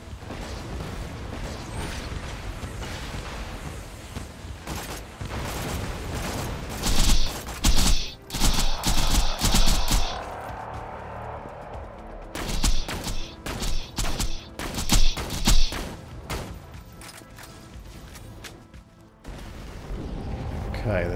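Rockets fire in bursts during a chaotic fight in the Borderlands video game. Repeated loud booming blasts and clattering volleys come in clusters with short lulls between them, and a voice talks over parts of it.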